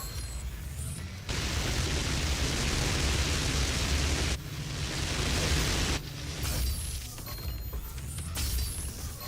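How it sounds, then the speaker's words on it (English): Gauss cannon blasts and heavy explosions in the 2016 DOOM video game, a loud, dense roar of noisy bursts filling nearly the whole stretch, broken by a few abrupt cuts and renewed blasts. "Oh, I do have my Gauss cannon."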